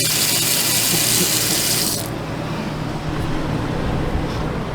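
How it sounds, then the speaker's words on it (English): Water runs and drains in an RV sink, a steady close rushing that drops to a softer flow partway through, with no talk. "that the sink is draining now, which I bet it is"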